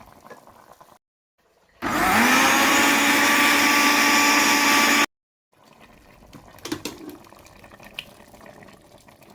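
A blender runs for about three seconds, pureeing tomatoes and onions for an Ivorian pistachio sauce. It gives a loud, steady motor whir that starts and stops abruptly, with quieter kitchen handling noises before and after.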